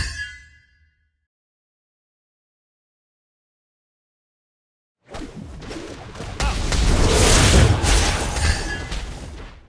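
Turret destruction in the mobile game Mobile Legends: a brief blip, then silence, then a sudden loud swelling crash of booming, crackling debris that builds and rumbles on to the end.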